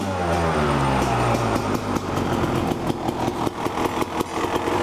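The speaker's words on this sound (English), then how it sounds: "Let my bike run for a while." Honda CR250 motorcycle engine running on a stand, a loud, close two-stroke drone with a steady revving pulse, no talking.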